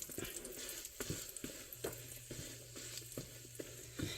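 Thin, egg-heavy keto pancake cooking in a pan, a soft steady sizzle punctuated by regular light taps and scrapes, close and quiet with no talking.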